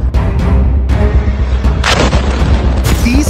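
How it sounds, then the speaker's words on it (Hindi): Gaza war-zone blasts from the Israel–Hamas conflict come as several loud booms in quick succession, each a sharp burst with a deep rumbling decay, over a constant low roar. "दूसरा धमाका"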